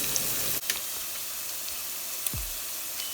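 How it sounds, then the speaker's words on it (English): Onions and garlic fry in a pan, a steady close sizzle and hiss with a couple of faint knocks and no talking. "we're gonna fry for around, let's say 3 to 5 minutes"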